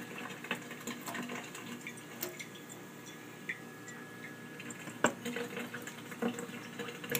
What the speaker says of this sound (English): Rinse it through the water again.